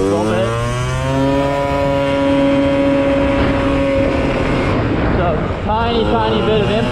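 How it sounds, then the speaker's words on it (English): Gilera 180 motorcycle engine running on a tiny throttle opening while riding, a steady buzzing drone with gently rising pitch, then a brief dip and fresh rise near the end, a rider talking over it. "how little I have to turn this throttle to get this bike to hang out around like 35, 40"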